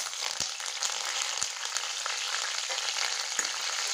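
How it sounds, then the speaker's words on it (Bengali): Curry leaves and slit green chillies frying in hot oil for jackfruit pakoras, a steady close sizzle with a few sharp pops and crackles, no voices. "আর এখন আমি এখানে কারি পাতা নিয়েছি আর কয়েকটা কাঁচা লঙ্কা চিড়ে নিয়েছি। এগুলো এখন আমি তেলের মধ্যে দিয়ে দেবো।"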